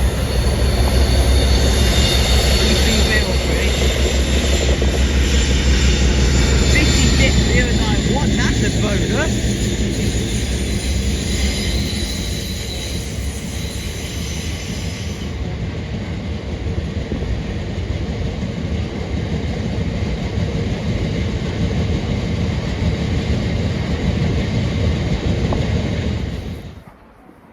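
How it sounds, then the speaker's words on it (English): A freight train running from Middleton Towers to Ravenhead rumbles past close by, loud and continuous with wind buffeting, then fades and cuts off abruptly; a person briefly exclaims partway through. "Right, here we have our next freight train."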